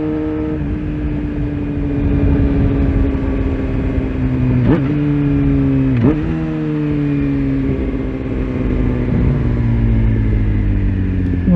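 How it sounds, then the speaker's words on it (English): Road traffic passing on a Sunday ride on a Suzuki motorcycle: steady engine drone with sweeping tonal pitch shifts as vehicles go by around the five- and six-second marks, loud and continuous without talk. "A lot of traffic out today for Sunday."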